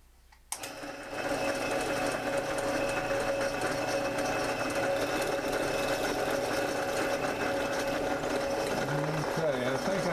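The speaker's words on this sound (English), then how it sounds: "nice thing about drill presses is you're able to precisely locate your holes" A drill press drives a quarter-inch bit straight down through a workpiece. The motor kicks on abruptly after a brief quiet moment, then holds a steady, close humming whine with a faint grinding edge for about ten seconds.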